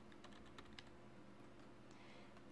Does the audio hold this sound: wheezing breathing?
no